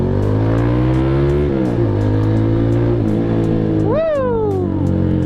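Nearby, a Kawasaki Z200 motorcycle with an SC Project exhaust idles with a loud, steady burble, then gives one sharp throttle blip that rises and falls quickly.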